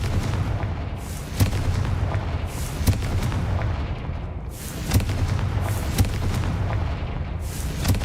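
Blasting-curse explosions from a Harry Potter video game, heard as a series of loud booming blasts about every one to one and a half seconds over a dense, rumbling background.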